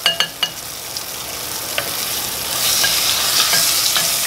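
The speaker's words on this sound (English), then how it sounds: "We're gonna sear that a little bit." Short ribs searing in a hot pan give a steady, close sizzle, opened by a few sharp clinks and scrapes, with the frying hiss growing fuller toward the end.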